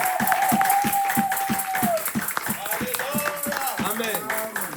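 A church congregation claps in a steady, rhythmic beat during a New Year service, with a voice singing or calling out over the clapping.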